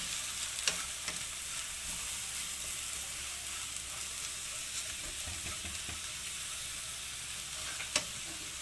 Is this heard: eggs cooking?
yes